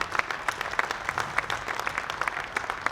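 Audience applause at an archery tournament's men's open finals for an 18-year-old archer: steady, dense clapping from a crowd that lasts the whole stretch, at moderate loudness.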